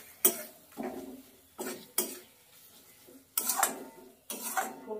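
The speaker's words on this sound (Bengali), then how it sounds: "এবার নাড়িয়ে ভালো করে মশলাটাকে কষাবো" Spice masala with tomato being stirred and fried in a pan, heard as several separate scraping, clinking stirring strokes against the pan with a faint sizzle between them.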